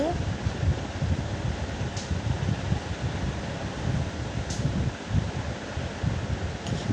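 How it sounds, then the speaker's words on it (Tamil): Strong wind buffets the microphone in a continuous rough roar with gusty swells, close and steady throughout. "காற்று வேறு பயங்கரமாக அடிக்குது இப்போ காற்று காலமா அதனால் காற்று நல்லா அடிக்குது"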